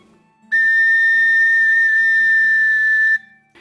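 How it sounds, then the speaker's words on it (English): First note from a homemade PVC Irish whistle head, a single clear steady high tone held for under three seconds, close and alone after a brief quiet breath. "When you blow into your flute head, you should get the first sound of your flute."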